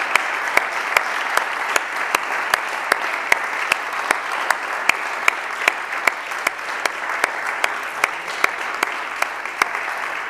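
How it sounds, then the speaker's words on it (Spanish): A crowd at the Penyagolosa Trails race bib draw in Castellón claps continuously, a broad, even roar of applause punctuated by sharp, regular clicking ticks throughout. "un fuerte aplauso ahora mismo para todas y todos."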